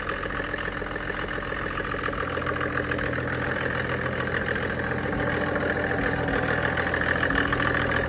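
A Mercedes OM606 3.0 diesel engine drives a water pump, running at a steady idle with a continuous, even mechanical drone and a low rhythmic rumble that stays loud and close throughout, with no voices present.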